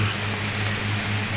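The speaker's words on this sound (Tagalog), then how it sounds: "malakas po yung ulan" Steady rain hisses continuously, a dense, even wash of falling water with no breaks and no voices.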